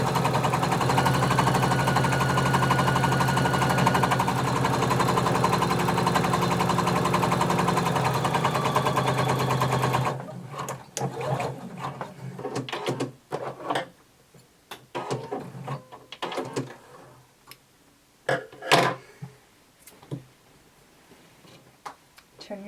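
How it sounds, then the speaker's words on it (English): A sewing machine stitching all the way around a skirt runs in a loud, steady whir for about ten seconds, then stops, leaving scattered clicks and fabric handling noises. "we're going to sew all the way around"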